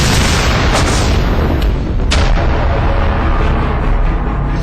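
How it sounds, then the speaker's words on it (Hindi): A loud boom from a dramatized explosion in a news report on a 2011 cross-border commando raid, followed by sustained rumbling, crackling roar with a couple of sharper bursts, heavy and close throughout. "तभी एक जोरदार धमाका हुआ"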